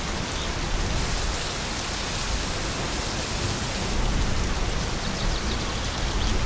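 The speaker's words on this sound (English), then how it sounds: "Oh, it's raining." Steady, dense rain in the video game My Summer Car pours down in a continuous hiss, even and close throughout with no pauses.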